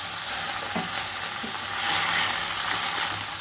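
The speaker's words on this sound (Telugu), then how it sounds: "ఇందులోకి కట్ చేసి పెట్టుకున్న తోటకూర అంతా వేసేసుకుంటున్నాను. అలాగే టమాటా ముక్కలు కూడా వేస్తున్నాను." Chopped amaranth leaves and tomato pieces fry and sizzle steadily in a pan for a curry, with a few stirring scrapes and clatters close by and no talk.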